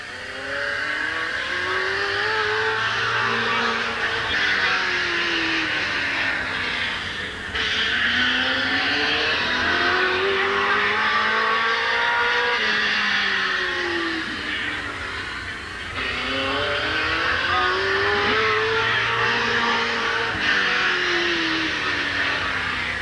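Race car at Midvale Speedway in 1988, the number 21 car out on qualifying laps, its engine loud and close with repeated rising and falling passes and rev swells, broad continuous roar throughout.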